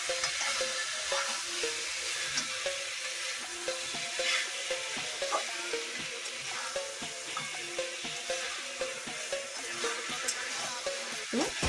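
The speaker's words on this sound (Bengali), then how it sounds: "আমি এবার এটাকে মিশিয়ে নিচ্ছি।" Chicken frying in a pan while a roasted spice powder of bay leaf and garam masala is stirred through, with steady sizzle and rhythmic scraping strokes throughout.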